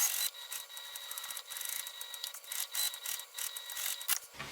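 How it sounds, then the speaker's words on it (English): A sewing machine stitches a seam on a fabric bag, giving a quick rhythmic run of rapid mechanical clatter in uneven bursts, close and fairly quiet. "So I will start sewing here, go up this side."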